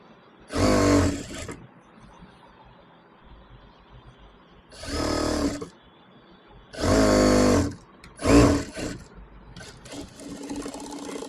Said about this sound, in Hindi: इस तरह से मशीन की सुई अंदर रख के यूँ घुमा देना है। फिर से एक सिलाई हम इसे लगा लेंगे।